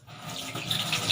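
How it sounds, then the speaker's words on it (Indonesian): Water runs steadily from a turned-on tap at a sink, a continuous close hiss and splash that grows slightly louder, with no talking. "Kemudian nyalakan keran,"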